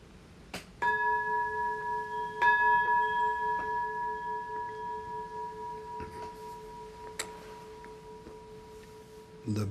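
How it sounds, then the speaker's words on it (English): A meditation bell is struck at a Zen gathering, ringing clear and sustained with long overlapping tones, struck again a couple of times as the resonance slowly fades in a quiet room. "The bell sound"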